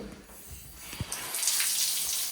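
Hot water runs from a tap, starting with a faint trickle and a small knock before swelling into a steady, fairly close gush that continues to the end.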